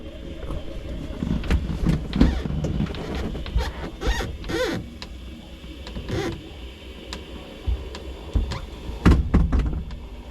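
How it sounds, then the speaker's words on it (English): Convertible top pump motor on a 1964 Mercury Monterey labors slowly, making uneven whirring bursts with creaks and clunks as the top moves, surging and easing in irregular pulses at close range. "Pump's going real slow"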